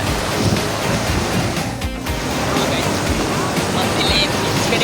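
Ocean surf breaking at Mangalore beach, a loud continuous roar of waves with gusty wind buffeting the microphone, close and unbroken.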